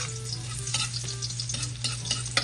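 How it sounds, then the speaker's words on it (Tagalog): Garlic sautéing in a pan for a cabbage stir-fry, a constant close sizzle and crackle with scattered spoon scrapes and stirring clatter, heard without any talk. "Igigisa na po natin ng bawang."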